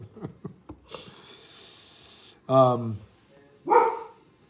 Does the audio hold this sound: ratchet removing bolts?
no